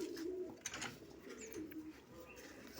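Pigeons at a sale of pigeon pairs give soft, low, steady cooing, faint and close, with a few light chirps over a quiet background.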